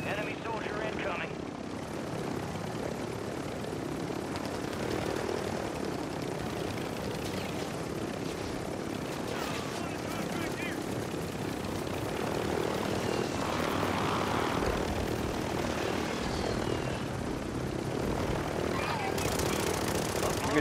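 Helicopters flying over a Warzone battle, a steady loud rotor and engine drone filling the whole stretch and swelling louder near the end, with players talking over it.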